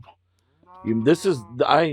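Cows mooing in Minecraft, a short low moo followed by a longer drawn-out call with a rising and falling pitch, close and clear with no talking over it.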